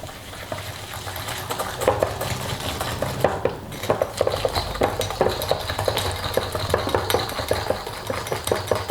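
A whisk beats three egg yolks with 80 g of sugar in a bowl for a Christmas speculoos Bavarian log cake, sending out fast, continuous metallic clinking against the bowl over a low steady hum.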